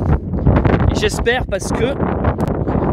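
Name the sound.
strong wind blowing into the microphone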